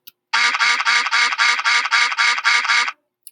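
A rapid run of about ten loud, nasal duck quacks from a Scratch sound effect in steady rhythm, close and clear, then silence.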